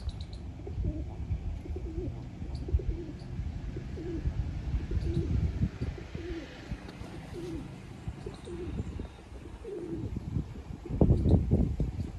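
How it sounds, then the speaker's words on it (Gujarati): Pigeons coo repeatedly in soft, low throaty bursts close by, with rustling and flapping noises louder toward the end. "આ છે આપણા કબૂતરા"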